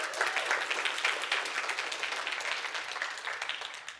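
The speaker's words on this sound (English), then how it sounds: "Let's give Saeed one more round of applause" An audience at a millionaires summit gives a round of applause for Saeed, a dense, steady wash of many hands clapping that holds evenly throughout.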